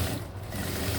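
A sewing machine runs steadily for a second, stitching the lining of a pouch with a close, even mechanical whir.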